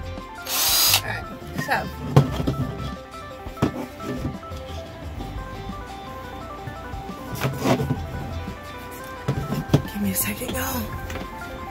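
A power drill with a 1/16 bit whirs into wood in short bursts close by, interrupted by clicks and handling noises, with someone talking between the bursts.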